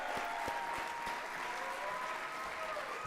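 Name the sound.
audience applause for performers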